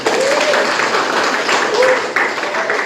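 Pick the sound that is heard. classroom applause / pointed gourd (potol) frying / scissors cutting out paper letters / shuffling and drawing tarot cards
classroom applause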